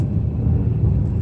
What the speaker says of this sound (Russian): Потом запустил машину